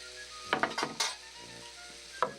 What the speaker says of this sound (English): We've got this sausage on here. It's just a frying away